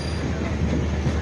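Passenger train pulling into the first platform at Mayiladuthurai on a rainy day, with a steady loud rumble of wagons and rolling wheels, faint clacking and a hint of wheel squeal throughout.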